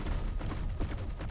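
Cannons on the USS Defiant ship in the Space Engineers video game fire in a dense, continuous barrage of rapid booming blasts, loud and close, with no speech.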